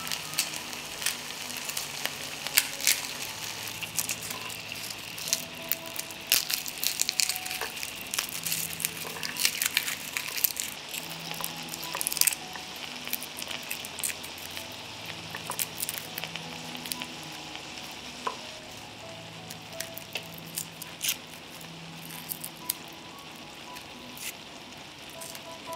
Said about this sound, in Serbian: Dok se tikvice prže